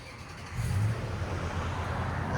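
A 2007 Lexus GX 470 with a 4.7L V8, a Borla ProXS exhaust and a manifold leak idles steadily with a low, even rumble that swells slightly after the first half-second and holds close and continuous.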